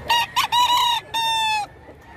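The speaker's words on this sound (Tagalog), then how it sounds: "Maganda ang mga manok sa Pampanga" A Pampanga fighting rooster crows loudly and close, two short bursts followed by a long drawn-out call, with no other sound around it.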